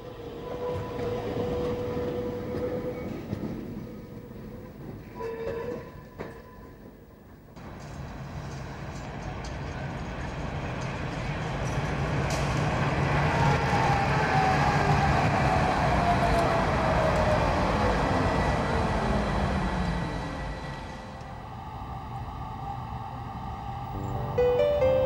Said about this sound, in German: Ein Einsatzzug, der noch komplett aus Pullmannwagen besteht, verlässt die Endschleife in Moisdorf.